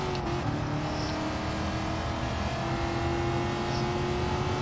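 Race car engine in the Gran Turismo Sport video game, a steady droning roar held at a constant pitch with no clear revving swells, loud and continuous with no talk over it.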